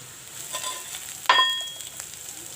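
Onions fry in a pan for peas paratha filling, a moderate steady sizzle with a sharp metallic clink of a spoon against the pan partway through.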